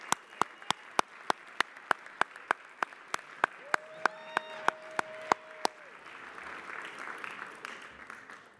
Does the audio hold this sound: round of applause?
yes